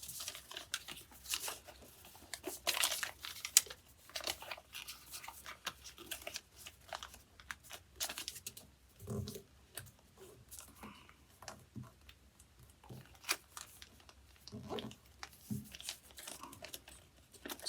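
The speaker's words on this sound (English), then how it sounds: "We're going to fold this edge here and this edge here into the center, and then this flap down." Origami paper being folded and creased by hand, giving soft, close crinkling and crisp rustling in irregular bursts, with occasional sharper creasing snaps and no voice.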